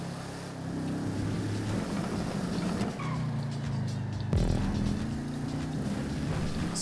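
A car engine drones in Grand Theft Auto, holding a steady, heavy hum that shifts pitch partway through as it changes gear, loud and continuous with no talk.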